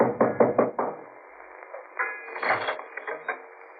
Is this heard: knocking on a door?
yes